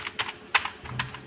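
Typing on a computer keyboard during data entry in Tally accounting software: a short run of quick, close key clicks in an uneven rhythm, with no talking over it.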